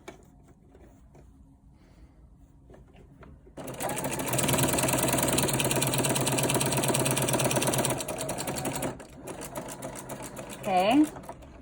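A sewing machine stitches a cloth face mask in a fast, loud, even whir that starts a few seconds in and runs for several seconds, eases off and then resumes. Quiet talk comes before the stitching begins.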